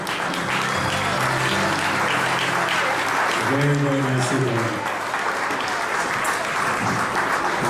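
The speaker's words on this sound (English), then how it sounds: "let's give them a nice round of applause." Wedding reception guests applaud in a steady, full round of clapping that carries through the whole stretch, while a voice speaks briefly over it midway.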